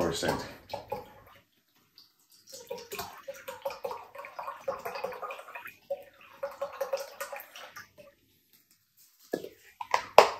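Water is poured into a cooking pot during Filipino home cooking, heard as scattered splashes and trickles in short bursts. A person talks between and over the pours.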